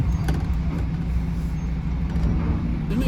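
A truck engine rumbles loudly and steadily up close as the vehicle turns around before reversing, with no talking over it.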